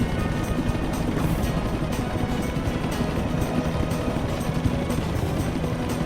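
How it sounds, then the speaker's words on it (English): A helicopter approaches in the climbing video game PEAK. Its rotor and engine make a loud, steady, dense rumble that fills the whole stretch with no talking over it. "watched as salvation approached in the form of a helicopter"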